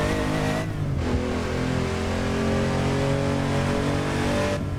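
Porsche 911 Carrera 993 driven in the racing game Assetto Corsa, its engine droning steadily and close throughout with a rising rev, with no talk over it.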